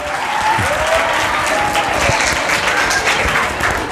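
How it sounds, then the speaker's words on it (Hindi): Students at a career counselling session on the constitution applaud themselves, a steady, dense round of clapping filling the room for several seconds with faint voices underneath. "चलो ताली बजाओ अपने लिए।"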